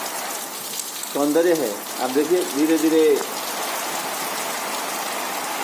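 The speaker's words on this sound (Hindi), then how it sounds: "बारिश तेज होती जा रही है" Heavy rain pours steadily over the open Mandar countryside, a dense hiss under gusty wind, while someone speaks briefly partway through.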